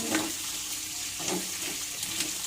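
Pork frying for humba, a steady sizzle in a pan with a few soft stirring scrapes, close and fairly quiet, no voices.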